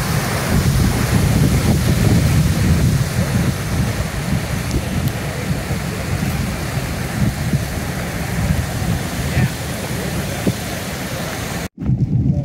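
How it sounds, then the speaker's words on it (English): Heavy rain and hail pound down during a flash-flood storm with thunder, a dense, continuous roaring wash with deep rumbling underneath, loud and unbroken apart from a brief dropout near the end. "Now we're getting some hailstorm."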